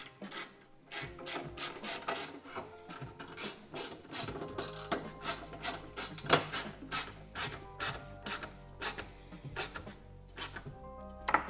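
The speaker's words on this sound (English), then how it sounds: "take one of these small screws from the kit, little dab of Loctite, T25, and we'll get this one started here" A small screw with Loctite is driven by a T25 Torx driver while installing billet running board brackets, heard as a close, steady series of ratcheting clicks and grinding turns repeating about once a second.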